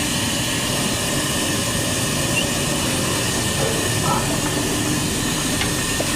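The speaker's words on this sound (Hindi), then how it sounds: "हमारे बॉयल आना शुरू हो गए।" A big pot of chicken and rice pulao, a five-kilogram batch, coming to a boil: a steady, loud, even hiss and bubbling roar that holds unchanged from start to end, with no voices.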